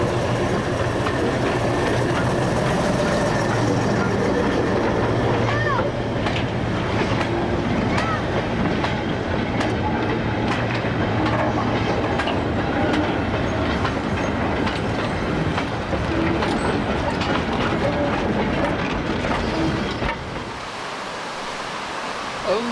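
A BR Class 04 diesel mechanical shunter hauls a local goods train on a heritage line near Nappers Hall, its steady rumble and clickety-clack of wagons rolling continuously and fairly close, cutting off abruptly near the end.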